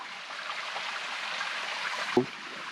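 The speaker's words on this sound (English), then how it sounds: "can you hear the babbling brook?" Babbling brook along a hiking trail on Mount Shasta near Chamise Peak, heard as a steady, soft wash of flowing water throughout, with a brief thump near the end.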